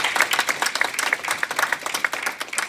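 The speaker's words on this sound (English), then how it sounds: "Let's give her a round of applause." A small audience claps steadily in a brisk burst of applause, with no voices over it.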